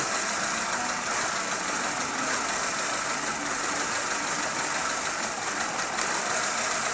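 A Honda Civic engine idling with a misfire and shaking: a steady, rough, noisy hum that stays constant and close, with no voices.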